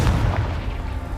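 A Confringo spell explosion in Hogwarts Legacy, a brief deep thud with a rumbling tail that lingers for about a second.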